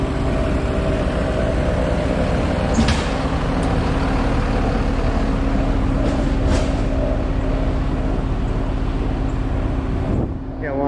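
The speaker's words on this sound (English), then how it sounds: "I wanted to get past that noisy truck" A noisy truck rumbles past on a street in the George Town port area of Grand Cayman, a loud, continuous low drone with some wind buffeting the microphone.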